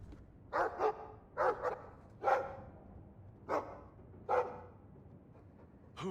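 Puppy in the video game Dragon Age 2 barking in short yappy bursts, about six barks spaced irregularly, close and clear, some in quick pairs, with no talking.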